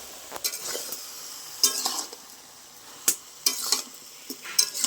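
Ridge gourd and potato with sugar and turmeric are stirred in a pan for a poppy-seed dish. Soft sizzling sits under intermittent metal spatula scrapes and clinks that come in short bursts, with no voices.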